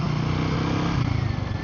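Royal Enfield Guerrilla 450 with its liquid-cooled 450 cc engine, giving a steady, loud, close-up engine drone that rises slightly in pitch toward the end, with no other sounds.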